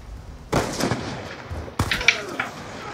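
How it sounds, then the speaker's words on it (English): Two loud, sharp shotgun blasts in the video game Call of Duty Black Ops 2, about a second apart, each with a short booming tail, with faint game ambience between. "Shotgun to the head."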